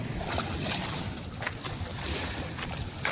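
Wind-driven waves lap and wash steadily on Chennai's largest lake, with strong gusting wind roaring over the water in a continuous, close rush.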